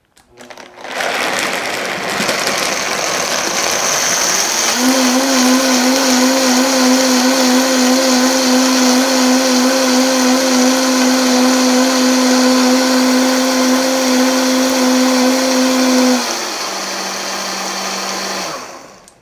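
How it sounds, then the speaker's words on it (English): A blender blending almonds and water whirs steadily for most of the clip, its motor pitch rising as it spins up and holding a loud, even drone before dropping near the end. "and a little blending action."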